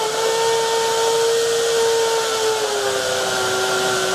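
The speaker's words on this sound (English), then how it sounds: "The max of the Variac. Motor is not happy." A cheap Hamilton Beach blender motor runs at the Variac's maximum setting, straining with a loud, steady high-pitched whine whose tone sags slightly partway through, heard alone.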